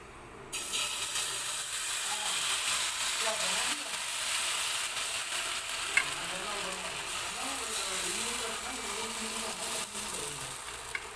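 Semolina dosa batter hitting a hot pan and sizzling, a broad, steady frying hiss that starts abruptly and holds for several seconds, close and clear, with a faint murmur of voice underneath.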